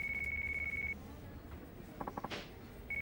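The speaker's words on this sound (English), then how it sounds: "That's your phone? Better see who it is." A phone rings in the Yakuza 5 video game: a steady electronic tone sounds for about a second, stops, then starts again at the end, with brief game sound effects in the gap between.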